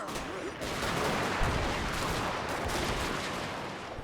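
Gunfire in a Boshin War battle at Kōshū-Katsunuma forms a dense, continuous volley, a loud, sustained crackling roar with no clear gaps between shots.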